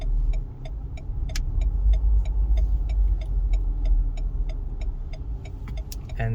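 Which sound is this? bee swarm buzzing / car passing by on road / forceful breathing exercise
car passing by on road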